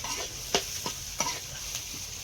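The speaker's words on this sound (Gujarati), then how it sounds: "આ વઘારવાનું કર્યું છે. આ ટોમેટો ડુંગળી ને એવું નાખીને" Tomato and onion sizzle in hot oil as a tempering, a steady hiss broken by a few sharp stirring scrapes at irregular intervals.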